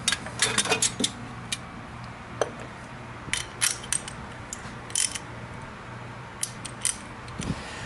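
A socket wrench with a 36mm socket works on the oil filter cover of a MINI Cooper S, giving close bursts of metallic ratchet clicks and clanks separated by short quiet gaps, with no talking.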